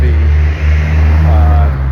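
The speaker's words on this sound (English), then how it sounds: "sorry about the car" A car passing loudly nearby, a heavy low engine rumble with road roar filling the whole moment, steady and close, with a voice faintly present beneath it.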